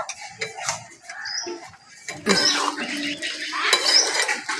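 Ground roasted spices and a little sugar stirred into a vegetable curry in a metal pan, with clinking, scraping spoon strokes that grow busier and louder partway through, close by with no talk.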